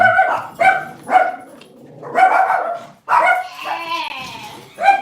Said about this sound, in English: Here comes the dogs barking.